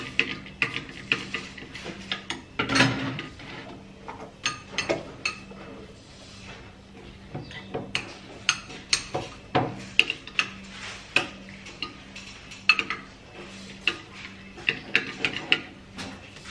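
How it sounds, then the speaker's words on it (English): A homemade vitamin C skin mixture being stirred in a small container, with light, quick tapping clicks of the spoon against the sides in an irregular run over steady quiet background, with no speech. "Stir it very well."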